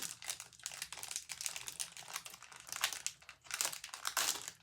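Plastic wrapper of an American snack package crinkles and tears as it is opened, with close, continuous rustling and crackling throughout.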